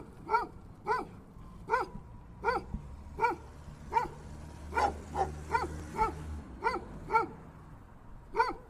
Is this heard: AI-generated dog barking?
yes